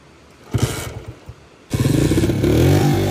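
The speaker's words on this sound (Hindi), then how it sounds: "अभी बाइक बंद हो गया, इस चढ़ाई पे हम चढ़ रहे थे" A motorcycle that stalled on a steep uphill mountain road in Koltor Valley is kicked over, coughs briefly, then catches and settles into a loud, close, steady idle with light revving.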